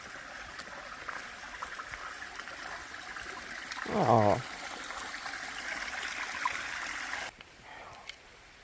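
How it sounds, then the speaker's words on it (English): A small stream at a trail water source near Erwin: steady, close trickling and babbling water runs throughout, with a brief voice exclaiming partway and the flow dropping away near the end. "It's a pretty little water source."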